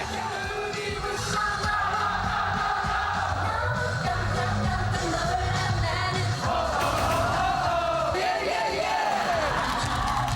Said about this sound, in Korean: 떠나갈 듯한 함성에 음악 소리가 묻힐 지경.